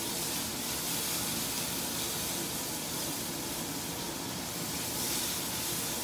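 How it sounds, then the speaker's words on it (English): Peppers sizzling in a hot wok, a dense, loud, continuous hiss and crackle held steady throughout with no voices. "you can still hear that sizzling noise"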